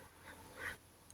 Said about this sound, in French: ça, c'est un chien